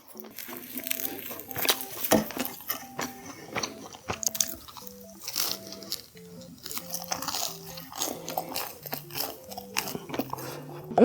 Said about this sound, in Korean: 너무 바삭해서 살짝 입안은 찔리는 그 정도의 바삭함이고